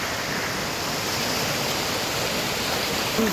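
A waterfall and fast-flowing stream over slippery rocks give off a steady, dense rushing roar, even and unbroken throughout, with no voices.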